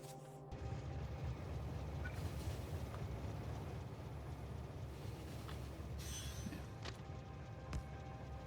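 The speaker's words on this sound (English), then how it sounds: "Let's just put the train in just for the sake of it." A train rolls along continuously in an oil processing video game, a steady low rumble with faint rail clatter and occasional squeals, holding at a moderate level throughout with no talk.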